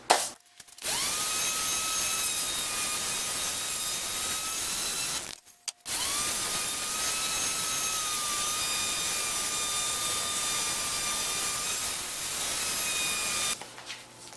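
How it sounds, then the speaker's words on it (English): A random orbital sander works an end grain wooden cutting board, a steady loud whine with a high ringing tone that starts, stops briefly mid-run, restarts and then cuts off. "I'll get the random orbital out and I'll sand both sides with 180 and then 220 and then 320"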